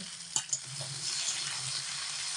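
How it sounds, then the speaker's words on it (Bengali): Cut potato and vegetable pieces dropped into hot oil, two quick splashes followed by a steady close sizzle and bubbling that holds through to the end, with no speech. "এবার আমি তেলের মধ্যে কেটে ধুয়ে রাখা সবজি আলুর পিসগুলোকে ছেড়ে দিচ্ছি"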